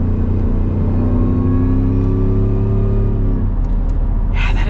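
Ford F-150 Super Snake pickup engine in manual mode, a loud, deep, beefy rumble with a steady drone and a slight pitch sweep as revs hold, then easing off near the end.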